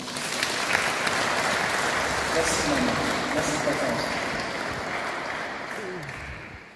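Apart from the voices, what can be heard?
audience applause at a funeral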